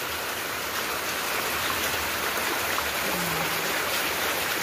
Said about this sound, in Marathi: प्रत्येकाच्या घराच्या शेजारून ते पाणी वाहत जाते आणि खाली नदी आहे